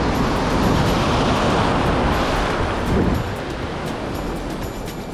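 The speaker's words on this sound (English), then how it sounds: "These waves are huge, breaking really high." Large ocean waves break on a reef after a hurricane, a loud continuous roar of surf with wind buffeting, the crash easing slightly near the end.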